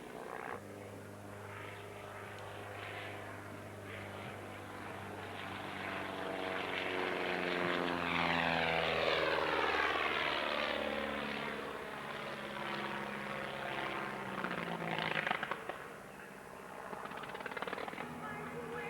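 Propeller-driven de Havilland Chipmunk with a 145 horsepower de Havilland Gipsy Major 10 Mark II engine at a New Zealand airshow, droning past with a rising then falling pitch sweep that swells louder midway and fades.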